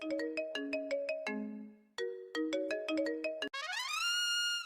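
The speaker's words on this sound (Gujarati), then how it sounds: "જો તો ફોન આવ્યો, કોણ છે?" A mobile phone ringtone plays a bright, melodic pattern of quick repeating electronic notes, pauses briefly, repeats, then ends in a rising swept chime, clear and close.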